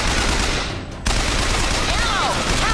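Sustained, loud automatic gunfire rattles without pause through a firefight in BioShock Infinite, with a brief dip in the barrage before it resumes at full intensity.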